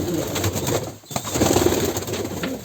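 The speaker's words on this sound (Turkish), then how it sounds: "Bol bol kanat postalar var. Mavi kanat postalar var." Kanat Posta pigeons in a village coop give soft, low cooing calls with a few wing flutters, close by and fairly loud with no talk over them.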